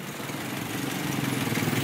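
A 2008 Toyota Yaris with a 1.5-liter 4-cylinder engine idles with a steady, faint, close hum and a light rhythmic pulse, with no voices.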